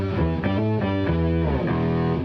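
Electric guitar run through a synth pedal with distortion, playing loud sustained buzzy chords that step through several changes, thick and saturated, heard alone without talk.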